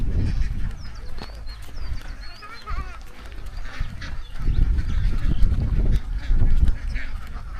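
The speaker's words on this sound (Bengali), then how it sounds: "দেখছো কতগুলো হাঁস" Village ducks quacking in rural Bangladesh, a flock heard in scattered calls behind near, ongoing talk and outdoor background noise.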